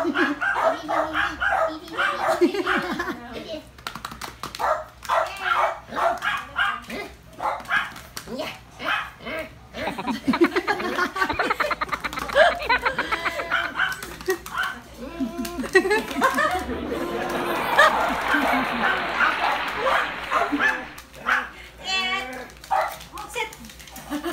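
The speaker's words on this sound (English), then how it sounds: "You gotta love these dogs." Several dogs in a hometown street in Nasugbu, Batangas bark, yip and whimper in repeated bursts close by, mixed with people talking and chuckling throughout.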